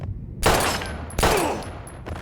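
Gunfire in the video game Life is Strange: two loud, sharp bursts about a second apart, each with a broad crack and ringing decay, heard alone with no talk.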